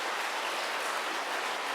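An audience at a Catholic priest's lecture claps together, producing a dense, even wash of applause that holds steady at moderate volume for the whole short stretch with no voices.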